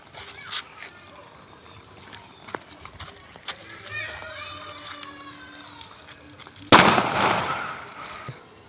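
A single sharp bang from a 2.25-inch firecracker bursts out near the end, loud and close, followed by a crackling tail over outdoor background noise.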